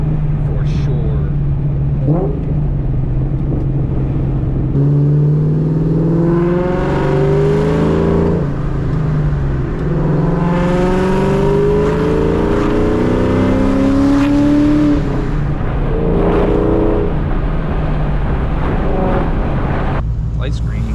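A Ford Terminator Cobra with a new exhaust pulls hard from inside the car, its loud engine note climbing in pitch through long surges, easing, then rising again over a constant low road rumble.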